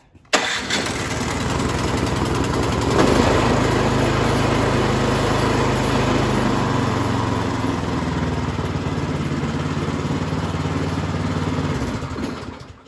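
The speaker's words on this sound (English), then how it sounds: "Once this starts up, you're gonna take the choke off or at least take it down to half." A Troy Bilt Storm 2410 snow thrower engine starts on the electric button with the choke on, catching almost at once and then running at a loud, steady roar for the rest of the clip, alone with no talk.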